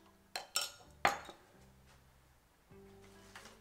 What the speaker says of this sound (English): add in 1/2 teaspoon of vanilla, and give that a good stir